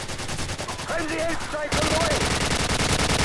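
Call of Duty 4 gunfire on the Downpour map: distant shooting and voices at first, then a steady, rapid stream of close automatic rounds takes over for the rest of the clip.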